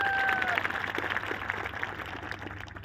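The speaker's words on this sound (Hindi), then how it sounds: "हरीश शेट्टीगर के लिए एक जोरदार तालियां दोस्तों।" An audience at a speech event claps in a dense, sustained patter of many hands, moderately loud, with a brief whistle-like tone at the start and crowd murmur underneath.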